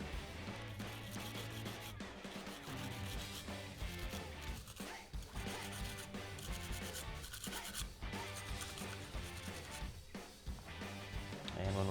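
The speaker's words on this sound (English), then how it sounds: "we're going to grab our bristle brush and scrub those parts" A bristle brush scrubs the slide rails of a Glock 21 Gen4 frame coated with CLP, giving faint, continuous close-up rubbing and scratching strokes under a steady music bed.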